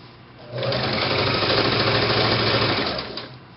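Sewing machine back stitching a seam on children's boutique ruffle pants, the motor whirring up steadily, running for about two and a half seconds, then winding down, close and clear.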